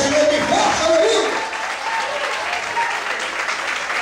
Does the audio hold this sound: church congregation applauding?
yes